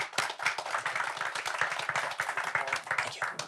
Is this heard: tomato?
no